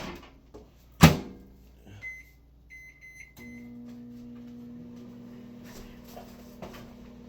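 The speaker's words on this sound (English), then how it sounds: "I'm gonna put this back in the oven, the microwave, for 2 minutes" A microwave oven reheating food: a sharp knock of the door, a few short electronic beeps, then a steady low hum as it starts running, close by and alone.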